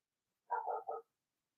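A dog barks outside, three quick, faint barks in a tight run, with silence on either side.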